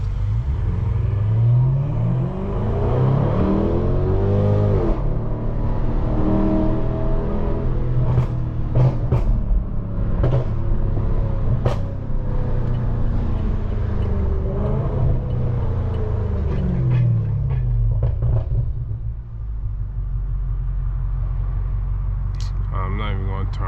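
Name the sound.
BMW M550i car engine revving while driving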